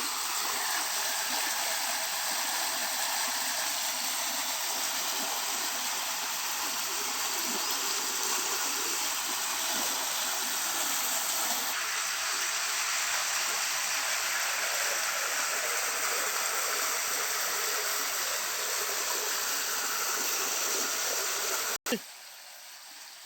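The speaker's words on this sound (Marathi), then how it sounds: "हे भिजवण्यासाठी मोटर चालू केली आहे." Steady rushing water from a pump motor, with a constant motor-like hiss, runs continuously for a long stretch, then cuts off abruptly near the end.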